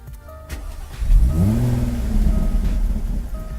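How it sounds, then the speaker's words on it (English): A Jaguar F-Type V6 starts up close by, a brief cranking catch giving way to a rising exhaust rev that settles into a steady throaty idle. "V6 noise from the exhaust"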